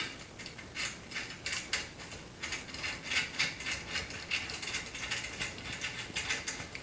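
Bolt being screwed into the L bracket of a Creality CR-10 V3 3D printer, giving a steady run of quick metallic ratcheting clicks, close and moderately loud, with no talking.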